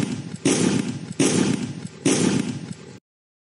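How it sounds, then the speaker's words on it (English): Three loud, sharp pops like gunshots burst from a cartoon kitchen at roughly even intervals, each followed by a short decaying tail, then silence. "did you hear something loud and popping? Yeah, I heard that they sounded like gunshots coming from the kitchen."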